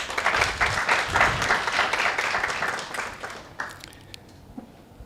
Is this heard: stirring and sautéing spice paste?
no